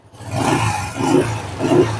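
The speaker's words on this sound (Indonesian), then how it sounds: "coba kita geber dikit ya." A classic motorcycle engine revs up three times in quick succession, each throaty roar swelling and easing, loud and close.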